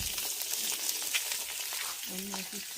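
Eggs frying in oil in a pan, a steady close crackling sizzle throughout, briefly joined by a short tonal clink near the end, with no talking.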